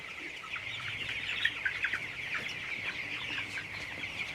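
Chickens on a poultry farm cluck and chatter continuously at moderate distance as a dense flock murmur.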